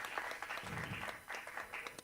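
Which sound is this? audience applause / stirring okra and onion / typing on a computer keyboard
audience applause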